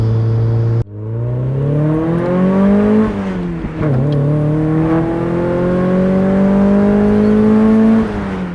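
Engine of a 1996 British Racing Green Mazda MX-5 droning steadily at close range while driving, rising in pitch as revs climb, dipping briefly near a gear change, then holding a loud, continuous note.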